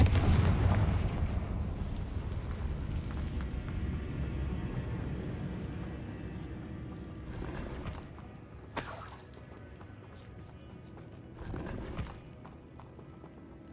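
Confringo fire-spell blasts in Hogwarts Legacy inside a catacomb: a heavy explosive boom at the start with a long rumbling decay, then quieter sharp cracks and bursts spread across the rest, with no voices.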